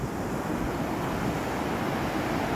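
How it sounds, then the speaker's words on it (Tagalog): Large ocean waves roll onto an open beach at Bangan Talinga in Iba, Zambales, early in the morning, a steady broadband surf roar with wind noise filling the scene, loud and continuous with no voices. "medyo malalaki pa yung alon"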